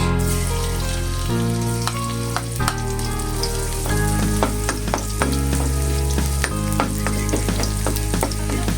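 Garlic sizzles steadily in leftover oil from frying tilapia, with a loud, continuous frying hiss and occasional crackles under background music throughout.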